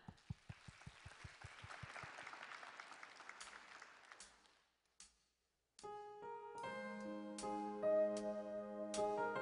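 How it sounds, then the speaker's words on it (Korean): Audience at a televised singing contest claps in a broad wash after a slow rhythmic clap, then it fades to near silence before a band's intro music starts. "무대에 올라오시는 분들에게 더 뜨거운 박수로 환영을 해주시면"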